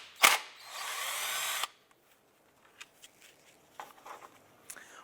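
A 10mm socket on an extension spins out a bolt on the air box of a 2001-2005 Honda Civic: one loud, close whir from a power tool, then soft scattered clicks and taps.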